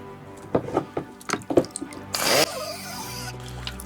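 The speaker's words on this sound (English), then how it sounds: "sanding the excess paint off" A brief burst of power sanding excess paint off a resin model, a broadband rasp lasting about a third of a second, following some light tapping and handling knocks.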